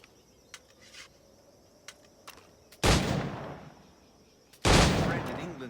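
Two loud gunshots ring out from a firearm in Assassin's Creed 4, each a sharp blast with a lingering tail, following quieter scattered clicks and faint ambient noise.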